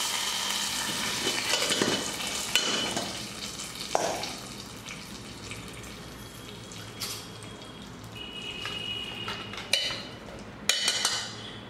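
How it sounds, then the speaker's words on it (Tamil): A hot tempering of oil and curry leaves goes into sambar with a sudden sizzle and bubbling hiss, then crackles and fizzes on, with a few sharp clinks near the end. "இப்போ இந்த தாளிச்சதை எடுத்து குழம்புல ஊற்றிடுவோம்"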